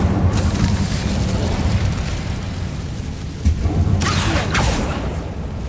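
A fire spell cast in the video game Hogwarts Legacy on PS5 produces a sustained roaring, rumbling whoosh of magical flame, with sharp crackling bursts near the end, loud and close without talk.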